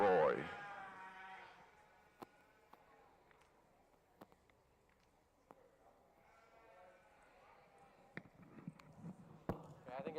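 Sheep bleat in a show ring at a youth livestock show in Kingwood, West Virginia: one loud, wavering bleat opens the clip and a fainter bleat follows midway, with scattered sharp knocks and soft arena noise throughout.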